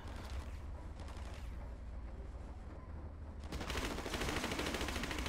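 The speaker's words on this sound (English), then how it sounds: "trying to shoot far range through a window with a Thompson" Thompson submachine gun fire in the WW2 Online game, rapid bursts of gunfire that run dense and continuous and grow louder in the final seconds, with no talk.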